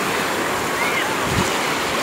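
Sea waves wash ashore at Praia do Peró beach in Cabo Frio, a close, continuous surf rush with a slight swell near the end and wind noise mixed in.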